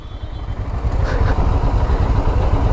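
A Royal Enfield motorcycle rumbles on the road from Mussoorie to Gurugram with a loud, close, low thumping engine note and steady road and wind noise throughout.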